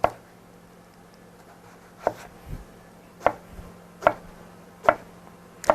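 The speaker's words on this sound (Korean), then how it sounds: "가지는 한 2cm 정도 크기의 주사위 모양으로 잘라주세요." A kitchen knife cuts eggplant into roughly 2 cm cubes on a cutting board, producing six sharp, evenly spaced chopping knocks against a quiet background.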